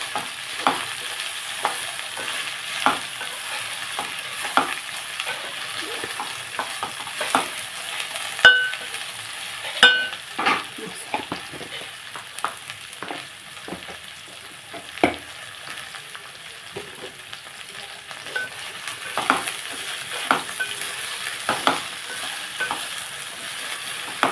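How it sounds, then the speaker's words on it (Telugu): Okra fries in a pan while turmeric is stirred in. A steady soft sizzle runs underneath, and repeated sharp scrapes and taps of the spoon against the pan sound close up, with no talking. "కొంచెం పసుపు వేసుకుని కూడా మనం కలుపుకొని"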